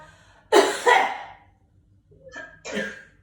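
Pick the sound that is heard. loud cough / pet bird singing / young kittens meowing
loud cough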